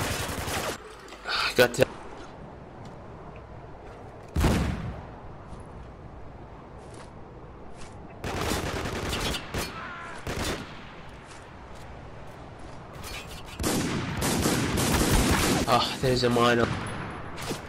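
Gunfire in a Spec Ops: The Line multiplayer team deathmatch: scattered bursts and single shots, some loud and near, others further off, with a player talking between them.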